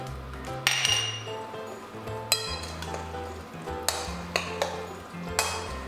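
A spoon mixes herbs through cooked samp in a dish, giving sharp clinks and taps against the dish at irregular intervals over a soft scraping bed, close and fairly loud, with no talk.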